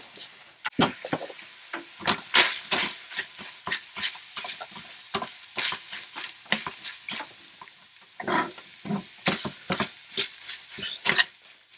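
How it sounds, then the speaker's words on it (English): Ground beef frying in a pan: crackling, spattering, with rapid irregular pops and hisses close up, rising and falling in bursts. "Let's hear that sizzle."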